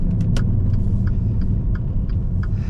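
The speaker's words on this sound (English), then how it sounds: "There's that wheel bearing." A worn wheel bearing on a 2014 Dodge Dart GT automatic produces a low, steady droning rumble under road and engine noise while driving, with light intermittent clicks and rattles over the top.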